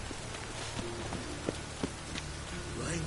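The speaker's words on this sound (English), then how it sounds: "Rain was coming." Steady rain pattering in The Witcher 3: Wild Hunt, a soft continuous hiss with a few louder drip-like taps and faint footsteps mixed in, no voices.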